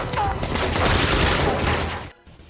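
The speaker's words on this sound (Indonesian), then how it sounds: "Karena tembakan yang datang bertubi-tubi, mereka bertiga lalu bersembunyi." A dense, continuous barrage of gunfire in an action film rattles loudly for about two seconds, then cuts off abruptly into near silence.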